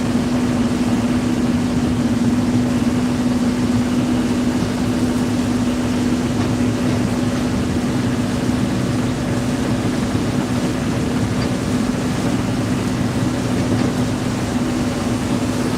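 A Thames Clipper river bus running on the Thames through London. Its engine gives a loud, steady drone with a constant low hum and a wash of water and wind, unbroken for the whole stretch.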